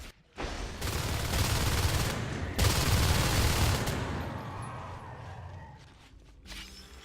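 Rapid bursts of shotgun fire in Natural Selection 2 during competitive play in a ventilation shaft, loud and dense for several seconds before trailing off into quieter game noise.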